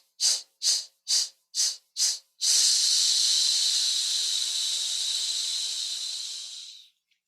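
Breath pushed out through the teeth during a belly-breathing exercise: five short sharp hissing puffs, then one long steady hiss that slowly fades, close and clear with no talking.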